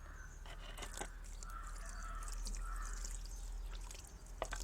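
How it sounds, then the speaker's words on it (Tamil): Water poured onto a newly planted pot of soil makes a soft, steady splashing that runs for several seconds. A few faint bird calls sound in the background, and no one speaks. "இப்போ உயிர் தண்ணி ஊற்றிடலாம்."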